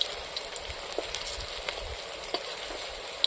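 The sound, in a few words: green banana fritters frying in oil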